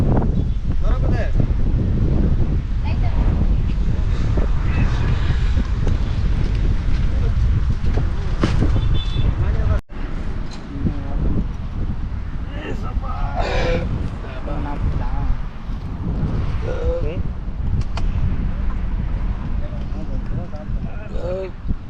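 Steady sea breeze blows along the beach road at Mamallapuram, a continuous rushing buffet across the microphone with a brief dip partway, while people chat over it.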